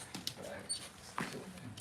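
A Cavalier puppy whimpers and gives short yips in a few close, fairly soft bursts, with no talking over them.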